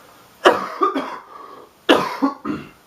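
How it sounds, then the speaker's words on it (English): Two close, harsh bursts of coughing, each a quick run of three hacking coughs, separated by a brief pause. "That's why I'm coughing."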